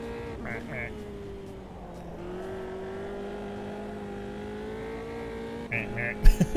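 A race car engine in the sim racing game Automobilista 2 drones at a steady pitch, then rises and falls with gear changes and a few sharp revs near the end.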